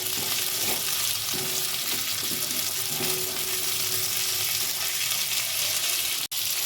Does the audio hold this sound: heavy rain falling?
no